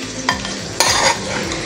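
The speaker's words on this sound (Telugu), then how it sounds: "కరేపాకు వచ్చేసి ఇట్లనే ఫ్రై అవ్వాలి, మొత్తం ఫ్రై అవ్వకూడదు" Curry leaves and garlic fry in a pan, giving a steady hiss of sizzling oil broken by a couple of sharp clinks and scrapes as a spoon stirs, all close and without any talking.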